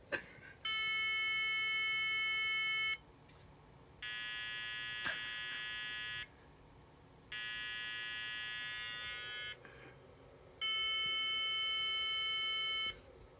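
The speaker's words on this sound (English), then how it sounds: "I need to figure out what that beep code means." Four long, loud electronic beeps of about two seconds each, separated by pauses, shrill and tonal like a retro PC's POST startup warning code.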